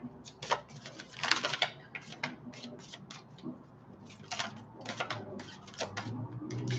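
A deck of tarot cards being shuffled by hand, heard as a steady run of close, crisp clicking bursts that ripple on and off with small gaps between them.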